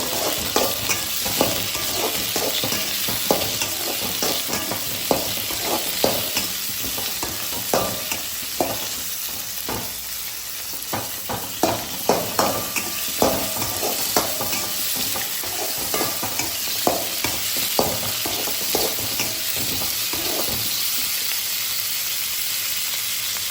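Onion, garlic, ginger and tomato frying in a pan for sambar masala, with a continuous loud sizzle and repeated scraping, stirring clatters throughout, close up and without talk.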